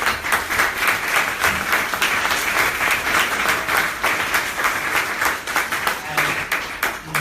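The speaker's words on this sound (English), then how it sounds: "can we just give our panelists a round of applause?" An audience gives a conference forum's panelists a sustained round of applause, many hands clapping in a dense, even roar that holds steady for several seconds.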